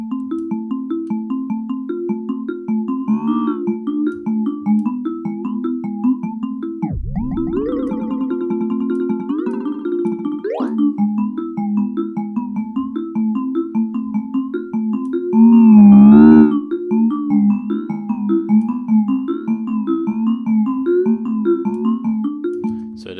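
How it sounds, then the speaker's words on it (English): Sustained synth tones swept by a flanger effect from a FabFilter Timeless 2 delay with a very small modulation amount, loud and continuous, with a brief dip and a pitch swoop partway through and no talking. "So there we get sort of our flanger sound."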